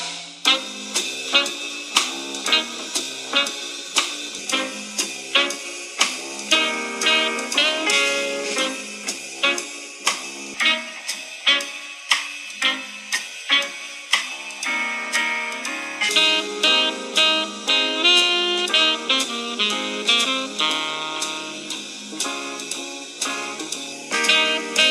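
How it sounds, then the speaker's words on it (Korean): Music with a steady rhythmic beat and vocals plays from small phone speakers on iPhone 12 Pro Max with a stainless steel frame, iPhone 16 Pro Max with a titanium frame and iPhone 17 Pro Max with an aluminium frame, thin and lacking bass, loud and continuous. "그럼 소재별 스피커 소리를 들려드릴게요."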